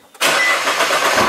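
A Nissan GT-R engine cranks and catches, then settles into a loud, steady idle right after the brief start, up close with no talk.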